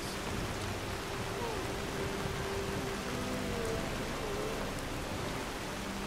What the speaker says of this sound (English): apologies for the rain. That's coming out quite loud.